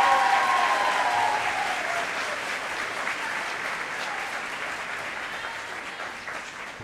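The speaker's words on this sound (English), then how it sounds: "Would you please give a round of applause to Mrs. Camilla's Cosmetology Class of" Sustained applause from a graduation ceremony audience honoring a cosmetology class, a dense, steady wash of clapping that fades slightly over nearly seven seconds, with faint tonal sound at the start.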